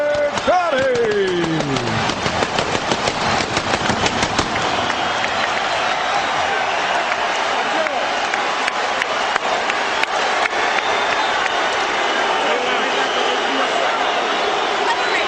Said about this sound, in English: a round of applause for Irish Micky Ward and Arturo Thunder Gatti.